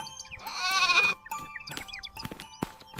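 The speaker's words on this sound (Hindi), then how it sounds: "मेरी बकरी भूखी है।" A hungry goat in a village gives one loud, wavering bleat up close, then soft shuffling, clicks and faint knocks follow.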